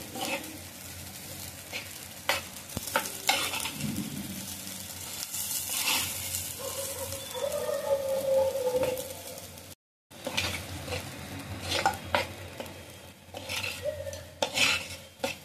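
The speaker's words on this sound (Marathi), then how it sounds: "ते चांगलं तेलामध्ये तळून घेऊया. मसाला चांगला तळून घ्यायचा" A paste of ground whole spices fries in oil for a jackfruit curry, with a spoon stirring and scraping against the pot over a steady sizzle. The noise stops for a moment and then carries on with no talking.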